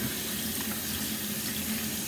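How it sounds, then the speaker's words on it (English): Warm tap water runs steadily from a faucet into a sink, rinsing soap off hands in a kitchen; a constant, close, even splashing hiss with no talk over it. "Got some nice warm water. And we're gonna rinse off all the soap."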